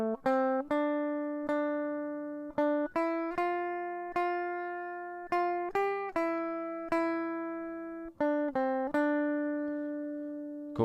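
A film theme is played slowly on guitar, with single picked notes ringing out one at a time, clear and close with no talking.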